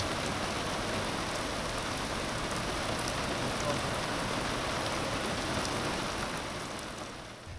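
Steady heavy rain pouring down at a camp by the water, a dense, even hiss with no talking, easing slightly near the end.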